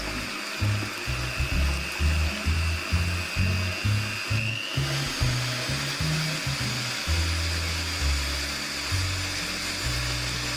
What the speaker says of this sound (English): Let's go on to whisk at high speed 9 egg whites.